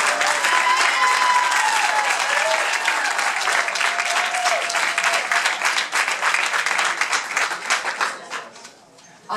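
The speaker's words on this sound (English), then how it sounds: "we can applaud for all of those" A crowd at a Democratic primary victory speech bursts into loud, sustained applause with some cheering voices, holding strong for several seconds before dying away near the end.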